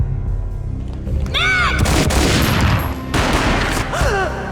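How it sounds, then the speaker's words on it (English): Gunfire in the PS2 action game Max Payne: a loud booming shot bursts in around two seconds, with heavy crackling decay and another blast after three seconds over a dense game soundscape with rising whistle-like effects. "A gunshot boomed and she fell down in slow motion."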